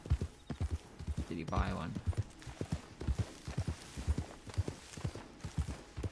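Horse hooves clip-clop steadily in Red Dead Redemption 2 Online, a quiet, even rhythm of soft thuds running throughout while players talk over it.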